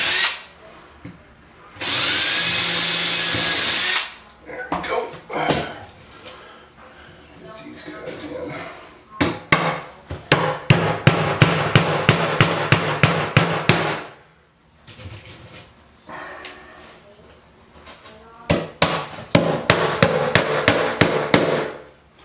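A hammer taps nails through pre-drilled holes in oak boards during a closet repair, with a short power-drill whir near the start and then runs of quick, sharp, evenly spaced close-up taps separated by pauses and handling noise.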